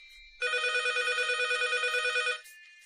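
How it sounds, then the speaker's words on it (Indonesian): A telephone rings with a steady electronic trill, one continuous burst of about two seconds, loud and close, with no talk over it. "Clara Wijaya, kenapa telepon aku?"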